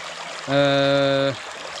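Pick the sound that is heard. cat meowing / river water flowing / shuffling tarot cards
river water flowing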